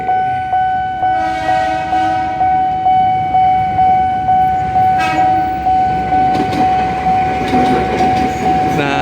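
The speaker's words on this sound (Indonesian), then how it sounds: "kereta KAI Komuter dari stasiun Jakarta Kota dan stasiun Tanjung Priok yang berhilir mudik di area ini" A KAI Commuter train passes close by in Jakarta, loud and steady, with rhythmic clickety-clack of wheels over rail joints and a long tonal horn or signal carrying throughout.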